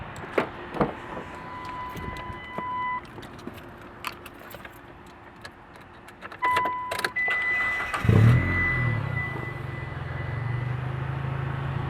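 A car's engine turning over and starting near the 8-second mark, then settling into a steady low idle; light key jangling and clicks come before it.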